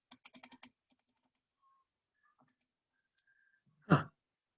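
Quiet, close keypresses on a calculator: a quick run of five or six taps, a few faint clicks, then a short breathy noise at the end.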